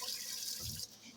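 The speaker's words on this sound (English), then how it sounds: "let me rinse this pot out real fast" A kitchen tap runs steadily as a pot is rinsed out beneath it, a close hissing splash that shifts tone as the water hits the metal.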